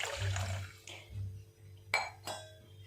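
Water pours briefly into a pot for tomato rice, followed by a couple of sharp metallic clinks against the cookware, fairly close.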